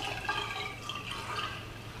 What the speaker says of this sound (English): Just gonna add some fresh water.